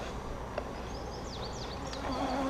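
Honey bees buzzing around a beehive during a hive inspection, a faint, steady drone with a few louder passes of individual bees near the microphone.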